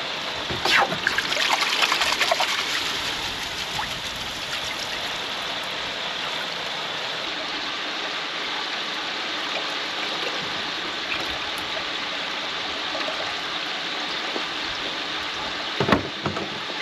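Water from a koi pond pours into a filter system, a steady, close rushing trickle that holds the whole time, with a few brief splashes and knocks.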